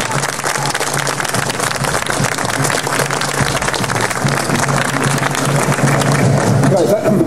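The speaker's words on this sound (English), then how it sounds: "applause" Sustained audience applause at a university forum welcoming speaker Aubrey de Grey, a steady dense roar of many hands clapping throughout with a low hum underneath.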